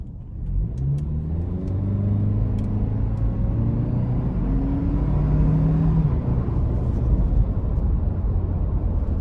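2025 Toyota Land Cruiser i-Force Max accelerating in sport mode, loud close engine drone rising in pitch through gear changes with a steady rumble throughout, no talking.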